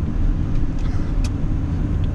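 Steady low rumble from inside a 2018 Audi Q7 with a 3.0-litre supercharged V6 under acceleration, a dense engine and road drone holding level throughout with no talk.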